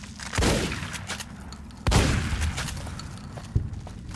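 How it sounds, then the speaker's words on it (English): Shotgun blasts in a video game, two heavy booming shots spaced over a second apart, each with a rumbling tail, followed by a sharper, smaller report; no talking. "Back to the shotgun."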